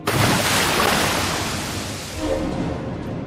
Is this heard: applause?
no